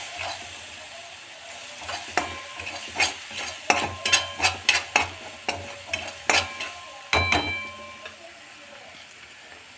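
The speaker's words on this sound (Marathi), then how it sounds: "आणि हे सगळं आपल्याला एकदा मिक्स करून घ्यायचं आहे." A spoon stirs chili powder and garam masala into a stuffing mix for stuffed bitter gourd in a pan, making a run of close scraping clicks and knocks over a soft, steady sizzle.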